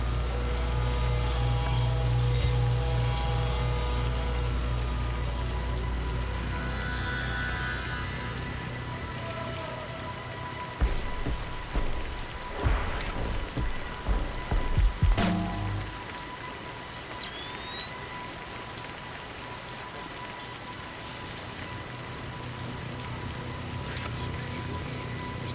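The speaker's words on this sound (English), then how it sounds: "What are you doing out in the rain?" Steady rain in the stealth video game Splinter Cell Pandora Tomorrow, during a TV station mission, with a low hum and a burst of louder crackling impacts midway before the downpour settles back to a constant hiss.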